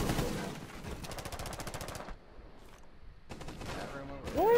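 Rapid bursts of automatic gunfire in Rainbow Six Siege, two long strings of fast regular shots broken by a quiet gap, then another burst. The shots are fairly faint, and a voice cuts in near the end.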